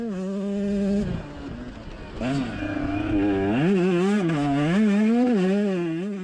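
A 125cc two-stroke motocross bike racing around track turns, its engine loud and buzzing, pitch rising and falling sharply as the rider revs, backs off and accelerates again, with a commentator's voice faintly underneath.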